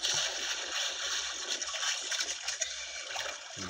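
Water splashing and spattering around a fishing catch being hauled in, a continuous bright wash of splashes at moderate level with low thumps throughout.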